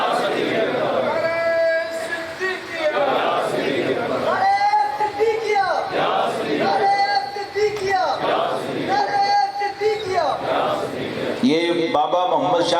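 At an Urs gathering, a crowd chants the Naara-e-Siddiqia slogan in repeated loud waves of massed voices, rising and falling in a rough rhythm with a lead voice calling amid the chanting.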